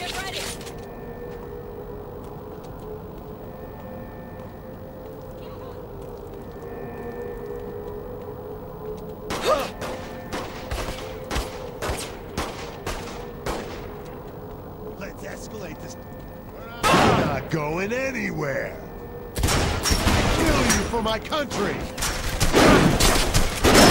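Gunfire in Saints Row 3 comes in scattered sharp bursts, sparse at first and then dense clusters near the end, mixed with in-game voices talking over a low background hum.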